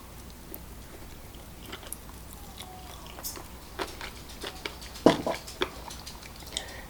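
Crunchy battered fried chicken in a garlicky sweet sauce being bitten and chewed up close, with soft intermittent crunches and a single sharper crackling bite near the end over a quiet background.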